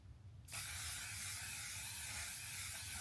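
A sudden, sustained hiss of aerosol spray begins after a short quiet moment and continues steadily to the end.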